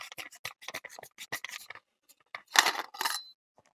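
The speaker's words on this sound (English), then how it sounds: "Now this allows you to unscrew the auto barrel." The barrel of an SSG10 airsoft sniper rifle is unscrewed by hand, producing a series of close, dry scratching and scraping bursts of metal threads turning, a short pause, then a louder grinding twist.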